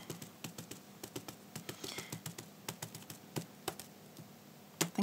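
Paint-loaded dry foam is tapped gently onto a stencil with acrylic paint in a quick, regular run of soft, close taps that continues through the whole stretch.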